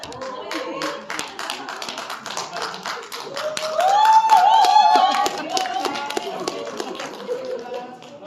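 A year-end concert audience at a Christmas medley recital claps in sharp, close taps, bright and uneven, with people chattering and a voice singing a short phrase mid-way.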